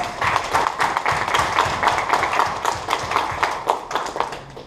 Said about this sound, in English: Let's applaud her, ladies and gentlemen.